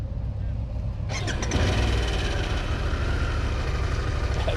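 A Harley-Davidson motorcycle engine, likely the Pan America or Sportster S, fires up after a second of quiet and holds a loud, steady, rumbling run close by.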